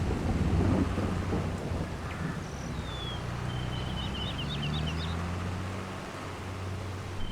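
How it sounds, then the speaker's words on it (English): Game rain from Farming Simulator 22 in a cow pasture falls as a steady hiss, with low thunder-like rumbles and the faint drone of a vehicle underneath. "That rain is just a little bit too much in my ears."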